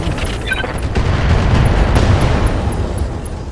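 An ammo explosion in the mech video game Roguetech booms out in a loud, rumbling burst that swells and then slowly fades, heard without any talk.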